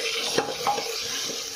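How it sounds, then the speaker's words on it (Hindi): Onion and garlic dropped into hot oil for a goat head curry give a soft sizzle close by, with a utensil briefly clinking against the pan. "अब हम इसमें अपने प्याज और लहसुन ऐड कर देंगे।"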